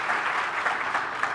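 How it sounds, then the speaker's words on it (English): An audience at a conference session on MLOps and data pipelines claps for the panelists, a dense, even burst of applause at moderate distance with no speech over it. "I want to give our panelists a big round of applause for their insights on our discussion today"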